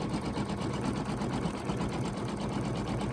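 A Brother Dream Machine sewing machine stipple quilts around a design, its needle hammering in a fast, even, continuous rhythm close by and loud, with no talk over it.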